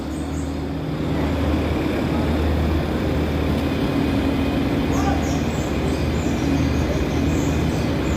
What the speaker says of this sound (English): Okay, so that tram is getting ready to leave.